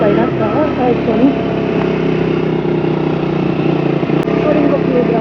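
A Yamaha MT-15 motorcycle being ridden, its engine a steady, continuous drone heard up close throughout, with a person talking over it.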